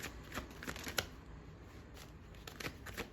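Tarot cards are shuffled in a few quick riffling bursts, close and crisp, with short pauses between the flurries of papery flicks and no voice over them.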